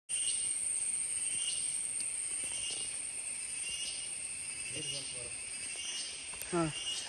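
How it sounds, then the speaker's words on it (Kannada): A small fly-like insect chirrs by rubbing its two legs together, a continuous high-pitched buzz that holds steady throughout, with a few faint scattered sounds in the background. "ಚಿಕ್ಕದೊಂದು ನೊಣ ತರ ಇರುತ್ತೆ, 2 ಕಾಲ್ನ ಹಿಂಗ್ ಉಜ್ಜುತ್ತಾ ಇರುತ್ತೆ"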